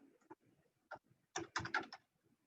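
Keys tapping on a computer keyboard while an online application form is filled in, a few scattered soft taps and then a quick burst of several keystrokes close by.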